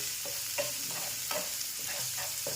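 Chopped vegetables sautéed in hot oil for rava appe: a steady close sizzle with rhythmic scraping stir strokes roughly every half second.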